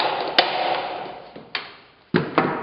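Staple gun driving staples into a wooden stud or plate, with a few sharp, close thwacks spaced apart over a steady background hiss.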